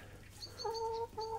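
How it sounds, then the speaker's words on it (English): Chickens give soft, short clucks in a coop at night, a couple of quick calls close by against a quiet background. "Good night, chicken."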